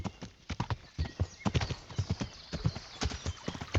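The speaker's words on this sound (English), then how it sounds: "The horse does not want to turn when I want it to turn." Horse hooves clip-clop at a steady walking rhythm in the medieval video game Kingdom Come Deliverance, close and distinct, with a brief whinny-like tone and no voice over them.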